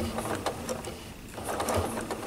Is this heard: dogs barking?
no